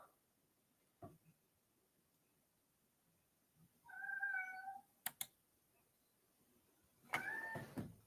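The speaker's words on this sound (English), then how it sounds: "What are you meowing about?" A house cat meows indoors in a few distinct calls: a short one, then a longer two-part mew, and a final drawn-out meow, separated by quiet gaps, a light clunk and brief clicks.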